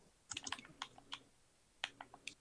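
Computer keyboard clicking under steady typing, arriving in irregular clusters of sharp taps with short pauses between bursts, fairly quiet and close, with no voices.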